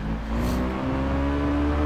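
Motorcycle engine revving hard in the Tourist Trophy racing game, a loud, steady sustained drone with a slight rise in pitch, close and continuous with no talk.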